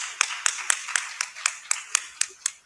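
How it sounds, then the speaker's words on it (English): Clapping in a conference session, ten evenly spaced crisp claps, close and fairly dry, like one or a few people rather than a large crowd. "let's clap for our speaker"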